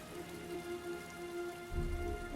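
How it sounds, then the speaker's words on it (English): Steady rain falls in the video game Heavy Rain, a dense even hiss with a faint low tone beneath it and a deeper rumble swelling near the end. "And the scene sets on falling rain."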